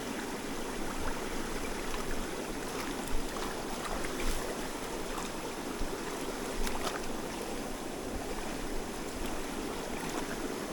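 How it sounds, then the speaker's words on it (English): Water runs steadily through a just-cleared pipe outdoors in rural Vietnam after a storm, a continuous broadband rushing flow with no talk, even and close throughout. "After a few minutes of cleaning, the water starts flowing smoothly again."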